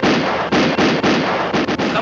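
Cartoon gunshots fired by a hunter in a 1956 animated short, a rapid run of loud, close, blasting bangs, about eight shots in two seconds, each a broad burst, with no talking between them.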